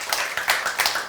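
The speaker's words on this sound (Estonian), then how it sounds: "Kas me võiksime teha Džemale suure aplausi ja tänada teda selle eest" An audience applauds at a talk, a steady patter of many hands clapping at a moderate level, close and unbroken for the whole moment with no voices.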